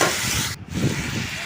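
Potatoes fry in a pan with a loud, continuous hiss and sizzle that dips briefly mid-way, then resumes close up.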